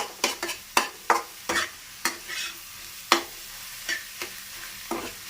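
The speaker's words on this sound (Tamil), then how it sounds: "இப்போது இந்த முட்டையை நம்ம இதில் போட்டு கரெக்டாக உப்புலாம் போட்டேன்" A spatula scrapes and taps in a pan of frying egg poriyal, sharp irregular strokes over a faint sizzle, close up with no talking.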